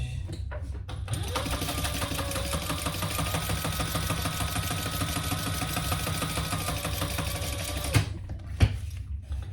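A sewing machine topstitches a fabric hip bag with a steady, loud, fast mechanical whirr for about seven seconds, then stops, leaving a few faint clicks and handling sounds.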